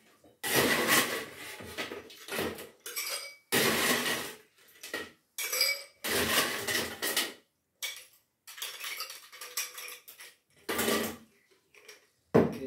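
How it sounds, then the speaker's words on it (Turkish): Ice cubes clatter into a glass while a vodka tonic is being mixed, arriving in bursts of bright, rattling clinks close up and separated by short silences. "Tekrar buzladım."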